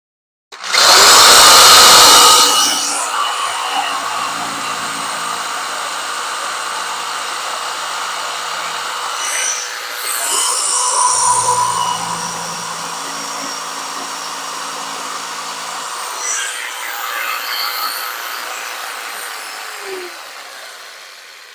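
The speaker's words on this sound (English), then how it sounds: "So I'm just going to saw these right off." Power tool cutting off overhanging pieces in a tiny home on wheels, a loud whining burst at the start followed by a long, steadier buzzing run with slight changes in pitch and load, no voices.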